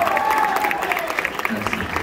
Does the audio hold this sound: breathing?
no